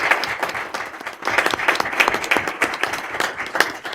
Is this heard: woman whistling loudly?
no